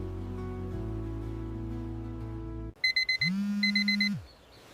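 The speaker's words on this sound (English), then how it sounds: "My alarm is ringing." An alarm clock rings with a sharp, repeated electronic beeping. Steady tones come first, then a burst of pulsed beeps lasting about a second and a half before it stops.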